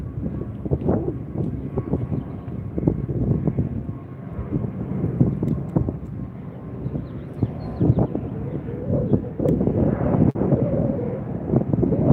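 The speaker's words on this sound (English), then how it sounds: "There goes the Alaska flight." An Alaska Airlines jet departs LAX, its loud roaring engine rumble sustained throughout, with gusts of wind buffeting the microphone and no talking.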